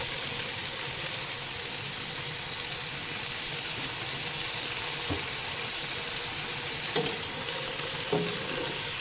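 Shrimp being stirred in a hot pan for ginataang santol: a continuous close sizzle and crackle of frying, with a few soft utensil taps and scrapes against the pan, without talking.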